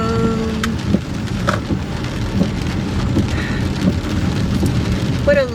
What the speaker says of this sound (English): What a lovely rainy day.